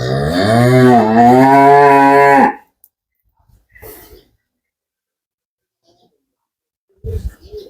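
A dairy cow on a farm in Dinajpur gives one loud, drawn-out moo at close range, followed by quiet snorts and breathing and a short low grunt near the end.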